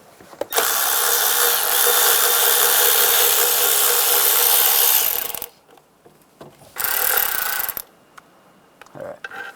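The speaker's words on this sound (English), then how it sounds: "You got to take those two bolts out. You're going to use a 10mm socket." A power tool working a 10mm socket off bolts on a 1996-2002 Toyota 4Runner engine during a valve cover gasket job; a loud, steady whirring burst lasts about five seconds, then two shorter bursts follow after brief pauses.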